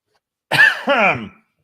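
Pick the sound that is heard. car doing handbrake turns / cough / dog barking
cough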